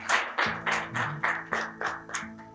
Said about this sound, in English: I think all of us deserve a round of applause.